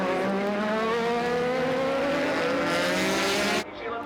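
Racing motorcycles scream down a circuit straight in a Suzuki Series race at Cemetery Circuit, a loud, sustained high-revving engine note that rises steadily before cutting off abruptly near the end.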